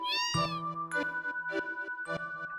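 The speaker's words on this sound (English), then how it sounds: "Oh, that's a cat. I thought that was another dog." A cat in the Final Fantasy 7 video game meows several times in a row, clear, close, high-pitched calls with short gaps between them.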